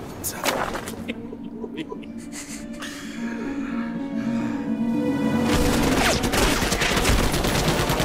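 Rapid submachine gun bursts in a multiplayer shooter match, dense crackling volleys that grow louder and more continuous in the second half, with excited players gasping and shouting over them.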